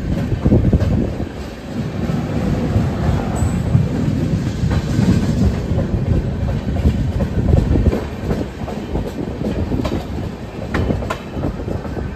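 Prasanthi Express passenger train rolling along the rails near a river crossing, a steady loud rumble with repeated clickety-clack wheel beats and faint squeals throughout, heard from inside the coach with no voices.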